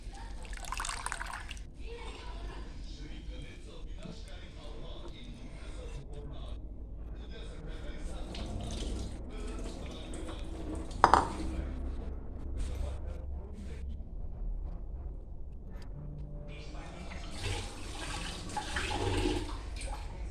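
Running water pours and splashes steadily as dried fish is rinsed and handled, with a voice speaking at times.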